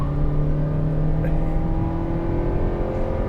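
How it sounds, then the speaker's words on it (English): A 2024 Toyota Prius Prime plug-in hybrid accelerates to highway speed, its engine and drivetrain giving a steady, gradually climbing hum beneath continuous narration. "as the engine kicks in, this thing goes to highway speed and beyond with no fuss at all"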